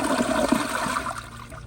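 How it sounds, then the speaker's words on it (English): A Glacier Bay PowerFlush toilet flushes normally, a loud rushing gush of water heard close up that swells briefly and then tapers into a softer draining swirl. "Here's a normal flush"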